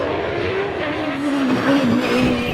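Cosworth XD V8 in the DJ Firestorm hillclimb race car at a Harewood British Hillclimb Championship run, a loud, close, continuous engine howl whose pitch sags and climbs through gear changes, with no talk.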